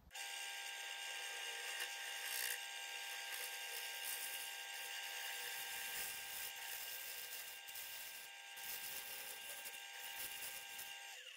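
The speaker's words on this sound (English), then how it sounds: "I just want to try the carbide on this resin" Carbide woodturning tool cutting resin set in bog oak on a spinning lathe: a steady, high whining hum with a brief sharp catch partway through, continuous and fairly close, no talk.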